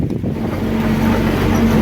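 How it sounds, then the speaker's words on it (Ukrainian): A tractor drives through a field during the corn harvest, giving a steady low engine drone with rumbling noise and wind buffeting, continuous and close. "поїхали, подивимося з трактора"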